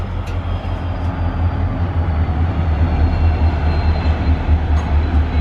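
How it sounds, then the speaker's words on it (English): A slow passenger train rolls past close by outdoors, a steady deep rumble of wheels and cars filling the whole stretch without a break. "Here comes the train."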